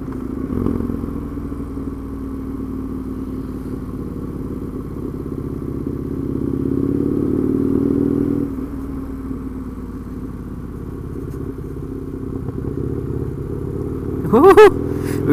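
Husqvarna Nuda 900R motorcycle engine on a test ride, a steady mid-pitched drone that swells and eases with the throttle and rises briefly in a sharp clatter near the end, with no talk over it.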